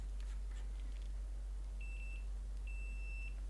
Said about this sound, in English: we're going to do continuity checks here